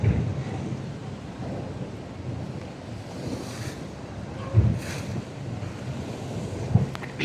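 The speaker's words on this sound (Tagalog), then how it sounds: "Ang lakas, ang laki ng alon." Strong ocean waves surge and crash at the Camotes Island pier, a loud, continuous roar buffeted by wind noise, with heavier thumps of impact every few seconds.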